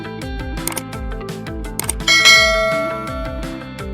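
Bright metallic bell-like dings and clangs in a quick rhythmic series, ending in a louder ringing chime that decays over about a second, like a notification bell sound effect.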